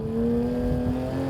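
Modified Porsche 911 GT3 RS 991.2 engine pulling under acceleration, a loud sustained tone rising slowly in pitch, heard from close by with no talk.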